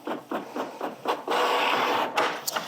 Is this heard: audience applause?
no